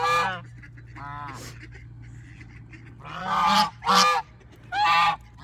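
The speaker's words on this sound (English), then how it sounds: "now if the geese quiet down for a minute" Geese honk loudly in several bursts, one at the start, a softer call after a second, then three strong honks close together near the end, over a steady low hum.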